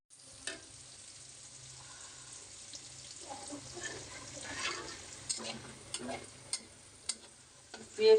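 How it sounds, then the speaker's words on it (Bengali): Onion frying in oil in a pan alongside crab, a soft, close sizzle punctuated by sharp spatula scrapes and clicks that grow more frequent toward the end. "পেঁয়াজটা ভালো করে ভাজা নেব।"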